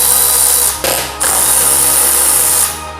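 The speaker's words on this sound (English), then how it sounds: "We're gonna start off by loosening these two bolts." A power tool loosens bolts on a Suzuki GSX-R front wheel: a loud, close whirring burst with a short dip in the middle before it spins on again and tails off.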